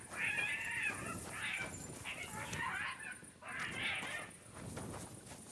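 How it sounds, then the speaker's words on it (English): Cat-like yowls ring out in the video game Kingdom Come Deliverance II: several drawn-out, wavering cries in quick succession with short gaps between them, fairly close and clear. "It's like a cat. But I haven't even seen a cat in this game once."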